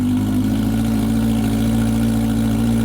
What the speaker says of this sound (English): That's Alex's car.